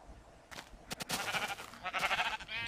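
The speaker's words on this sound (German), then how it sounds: "Oh, Schafe." Sheep bleat repeatedly in the Minecraft video game, a series of wavering, nasal cries close and fairly loud, one after another against a steady background hiss, with no talking.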